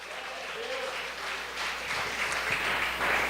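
Church congregation applauding together at a worship service, a steady wash of clapping at moderate distance with some voices mixed in, swelling slightly toward the end.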